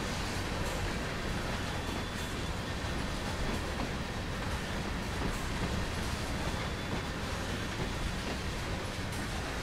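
A freight train rolls past in the Train Sim World 3 simulator, a steady, dense rumble of rail noise that holds at an even loudness for the whole stretch without pause.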